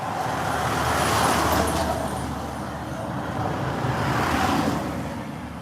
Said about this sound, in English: here comes the trucks